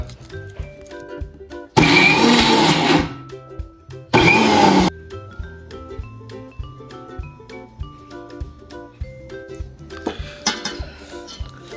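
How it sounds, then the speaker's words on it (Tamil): A mixer grinder blends shami kebab mixture in two loud, whirring bursts, about a second each and separated by a short gap, with light clinks of utensils and faint background tones around them. "மிக்சியில் வந்து இந்த கலவையை வந்து போட்டுக்குங்க. ஆறின பிறகு தான் போடணும், இல்லைனாக்கா வந்து மிக்சி போயிடும்"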